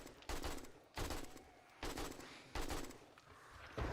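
Bursts of full-auto gunfire in the zombie survival game 7 Days to Die, five short loud volleys at roughly regular intervals, each a rapid string of close shots with brief gaps between.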